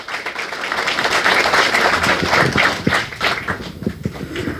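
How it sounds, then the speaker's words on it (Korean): Audience applause fills a book launch event hall, steady broadband clapping from a crowd sustained for several seconds, fading slightly toward the end. "여러분들 다시 한 번 더 힘찬 박수 보내주시면 감사하겠습니다"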